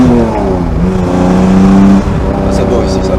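An Alpine A310 GT with a 3.3-litre non-turbo V6 revs and pulls hard with a steady, rising drone, loud and close, while people talk over it.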